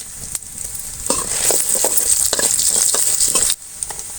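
Mustard seeds, chana dal, urad dal and dried red chilli crackle and sizzle in hot oil for a pirandai chutney tempering, a loud close spitting hiss with stirring that cuts off sharply near the end.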